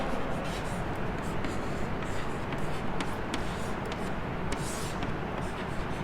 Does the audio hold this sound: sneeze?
no